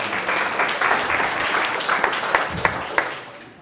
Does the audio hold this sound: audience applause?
yes